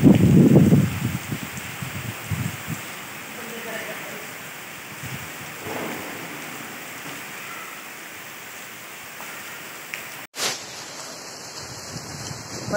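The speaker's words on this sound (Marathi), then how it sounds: "मंदिरात आलो आज आणि इतका जोराचा पाऊस सुरू झालाय" Heavy rain pours at a temple during a Shravan Monday visit, a steady broadband hiss with a few louder close knocks at the start and a sharp click near the end.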